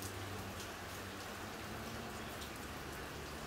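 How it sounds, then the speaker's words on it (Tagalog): Steady rain falling, a dense continuous hiss of drops on surfaces throughout, with no gaps. "Ulan, ulan, ulan is beautiful."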